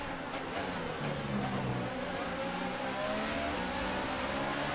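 Formula One cars in the video game F1 2018 roar away from a race start, a dense high engine whine climbing in pitch, steady and loud with no talk.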